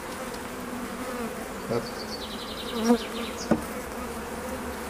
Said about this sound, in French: les abeilles tiennent pas trop le cadre dans cette ruchette-ci